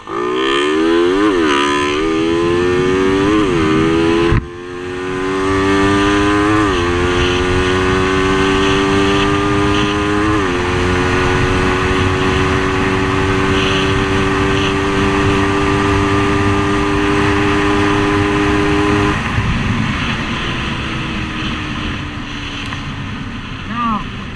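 A Raider 150 Fi motorcycle revs hard at full throttle and climbs through several gear shifts, its whine rising steadily with brief dips between shifts, wind rushing throughout.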